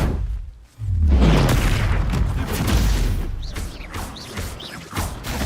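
Confringo and Expelliarmus spell blasts in Hogwarts Legacy erupt as loud, booming explosive bursts with a deep rumble, followed by continuous crackling impacts and whooshing effects.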